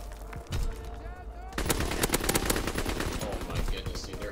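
Rattling machine gun fire in a Call of Duty match on the Shipment map, with bursts of rapid shots following a quieter opening and continuing steadily to the end.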